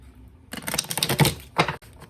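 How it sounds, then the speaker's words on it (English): Tarot cards riffle and snap in quick fluttering bursts, a long shuffle followed by a shorter one, close and fairly quiet. "But I'm shuffling to get your energy."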